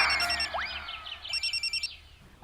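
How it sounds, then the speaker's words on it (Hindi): A phone ringtone plays, with rising electronic chirps followed by a rapid series of short repeated beeps, fairly loud and close. "एक सुपरस्टार शाहरुख का फोन है।"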